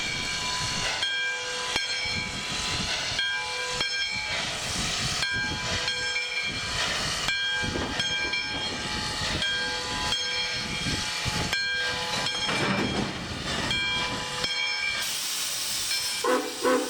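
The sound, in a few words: steam locomotive Number 93 backing onto freight train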